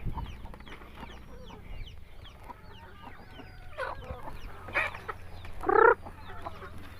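Rhode Island Red chickens cluck and chatter close by, with a louder squawk near the end over soft background noise.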